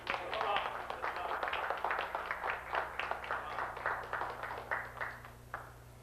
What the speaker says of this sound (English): Let's greet this brother with a hearty hand clap